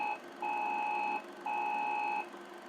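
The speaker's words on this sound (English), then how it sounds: "the beep will be replaced by a loud klaxon alarm, like so" Klaxon-style alarm from the LOST Swan terminal program running on an Apple II, two long loud electronic blares with a steady harmonic pitch, separated by a short gap, clear and alone.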